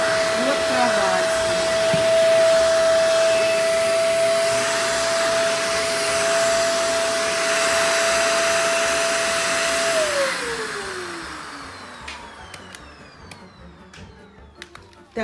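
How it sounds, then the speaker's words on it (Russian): A powerful household vacuum cleaner with a floor nozzle runs steadily under a bed, giving a loud, continuous whine with a high tonal hum that holds, then drops in pitch as the motor winds down near the end. "я могу пылесосить под кровать"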